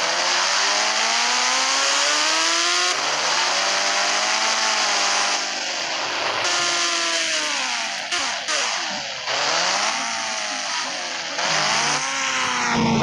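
A car engine in the video game Indian Bike 3D drones loudly and continuously, its pitch rising and falling as it revs through gear changes, with occasional tire squeals.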